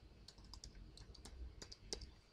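Quick, light keystrokes on a computer keyboard enter a netcat command in a terminal, a scattered run of soft clicks with a couple of sharper taps near the end, faint and close with no talking.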